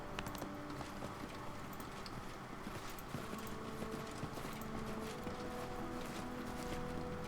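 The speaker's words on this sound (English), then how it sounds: "The legendary swirly horse." Horse hooves clip-clop steadily in a Pathfinder Kingmaker game scene, an even walking rhythm that stays faint and distant under a low ambient bed.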